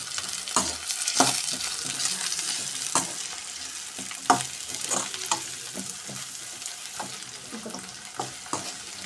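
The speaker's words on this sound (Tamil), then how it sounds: "குடை மிளகாய் லைட்டாக வதங்கினா போதுங்க" Carrot and capsicum sautéing in a pan for prawn noodles, a close sizzle broken by repeated spatula scrapes and taps as the vegetables are stirred, without speech.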